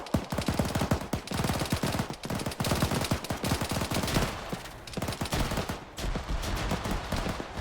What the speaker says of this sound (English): They're just firing regular shots at them, which is kind of annoying.